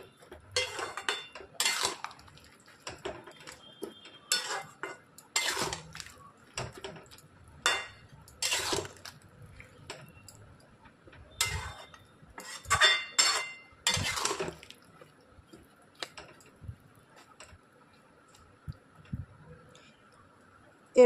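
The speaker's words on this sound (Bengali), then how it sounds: "ভালো করে মিশিয়ে নিতে হবে ঘিটা।" A spoon scrapes and clinks against a pan while a potato and pointed gourd curry is stirred with ghee, giving scattered bursts of metallic knocks and taps with quiet gaps between them and no voices.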